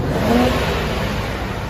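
Infiniti Q60 3.0L turbo engine with a Borla S-Type exhaust, a steady loud drone held at high revs throughout, close by, with no voices.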